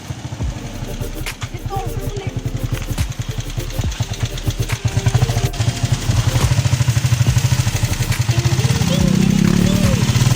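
A motorized tricycle (motor sikad) engine runs steadily throughout at close range, its low chugging rumble rising slightly toward the end, with people talking over it.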